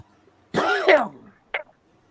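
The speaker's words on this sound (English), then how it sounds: "I was coughing." One person gives a harsh, throaty cough followed by a short second cough, loud and close in an otherwise quiet room during a live stream.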